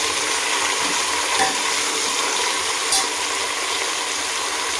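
Chicken frying with onions in a pan over high flame, a steady close sizzle and crackle with faint occasional stirring clinks, continuous and even throughout without talk.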